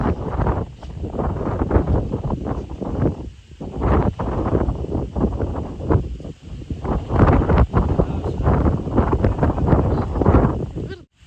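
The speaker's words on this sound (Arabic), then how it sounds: "الريح بزاف" Strong, gusty wind from a thunderstorm buffets the microphone in rough surges and lulls over a planted field, with rustling and faint voices underneath.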